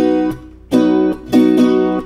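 Viola caipira strummed in the traditional long cururu rhythm: several full, ringing chord strokes close by, each left to sustain before the next, with no voice.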